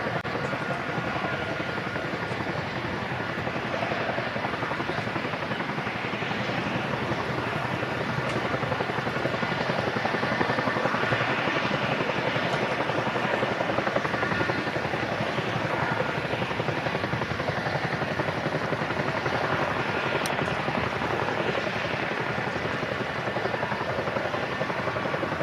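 A Chinook helicopter in a flying display at Farnborough International Airshow, its steady, loud rotor roar filling the air continuously with broad rumbling noise, with a voice faintly over it.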